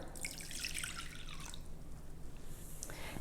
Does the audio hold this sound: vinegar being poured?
yes